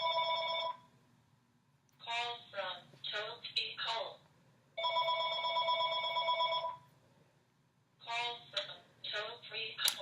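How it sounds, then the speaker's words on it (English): A telephone rings from an incoming telemarketer call in repeated loud, buzzy bursts, with someone talking in the pauses between the rings. "we're going to just pretend the phone's not ringing"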